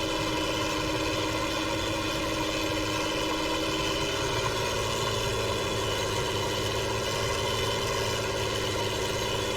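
A Ford TW35 tractor engine idling, a steady, even diesel rumble with a strong harmonic drone, loud and close, holding constant without revving or speech.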